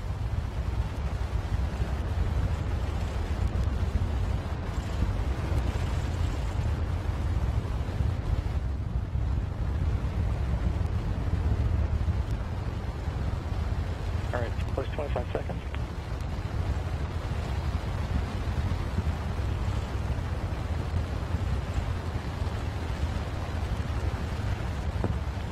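NASA Artemis rocket engine hot fire test on a test stand, heard as a steady, loud broadband roar with deep low rumble that holds without a break throughout, like a wall of wind-blown noise.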